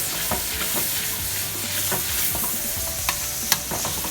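Food fries in a nice hot pan with a constant crackling sizzle, punctuated by scattered stirring clicks and a couple of sharper utensil taps close by.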